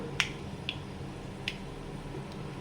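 A few sharp, isolated pops, about four, crack at uneven intervals over a quiet low background, as mustard seeds burst in hot oil.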